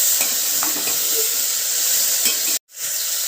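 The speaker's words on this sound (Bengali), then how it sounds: "সব সবজিগুলোকে খুব ভালো করে একটু ভেজে নিয়েছি 5-7 মিনিট ধরে" Vegetables for pav bhaji frying in a pan give a loud, steady hiss with light stirring scrapes, then cut out abruptly for a split second before the sizzle returns.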